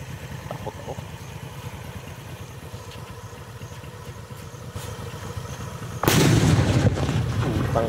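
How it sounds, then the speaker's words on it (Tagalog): A firecracker packed with 150 grams of flash powder goes off outdoors. After seconds of low engine-like rumble, a single loud, sharp blast hits and leaves a lingering roar. "So guys, 150 grams flash powder, sige. Sana sumabog."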